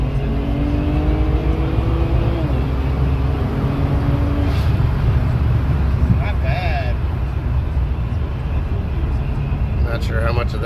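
BMW N54 car accelerating hard with a Tial blow-off valve, a loud, continuous engine and road roar heard from inside the cabin, with brief sharp whooshes from the valve near the end.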